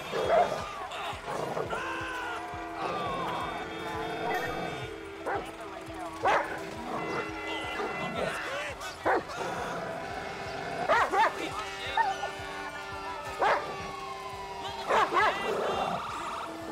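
A dog in the Grand Theft Auto 5 video game barks, yips and whimpers in repeated bursts, loud and close, mixed with other game sounds.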